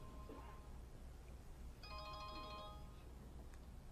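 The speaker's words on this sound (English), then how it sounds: "That's my cell phone." A cell phone rings out during a talk at a conference, its bright electronic ringtone sounding as a repeating melodic burst over a steady room hum, with a faint earlier ring before it.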